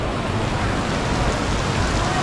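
Heavy rainy-season rain pours down in Bangkok, a dense, loud, unbroken hiss of rain hitting surfaces nearby, steady with no pauses.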